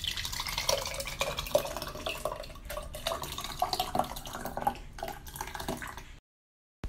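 Liquid poured through a jar funnel into a mason jar, a continuous trickling and splashing for about six seconds, close and fairly quiet, ending abruptly in silence.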